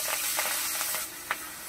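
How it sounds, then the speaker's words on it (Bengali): Yardlong beans fry in hot oil with a steady sizzle and a few sharper crackles and pops, fairly close and with no talk. "এবার বরবটিগুলোকেও ভেজে নেব।"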